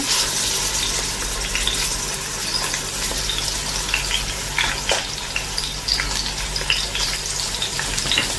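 Steady, loud sizzling of chital fish kofta frying in hot oil in a small pan, with crackling pops throughout and no voices.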